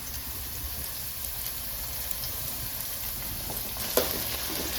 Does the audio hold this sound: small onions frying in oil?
yes